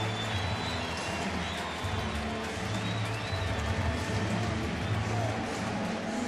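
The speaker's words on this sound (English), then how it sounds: "Nice round of applause for Adam Wainwright" A ballpark crowd at a Padres–Cardinals baseball game gives Adam Wainwright a round of applause, a steady wash of clapping and murmuring that holds evenly throughout under faint stadium ambience.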